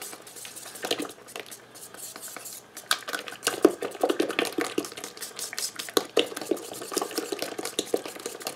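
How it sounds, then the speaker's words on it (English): A yeast mixture for bread dough from an 1893 recipe is stirred in a bowl, a busy run of quick close scraping and clinking spoon strokes at moderate volume, with no one talking. "I'll give it just a little bit more stir and that'll cool it off some more."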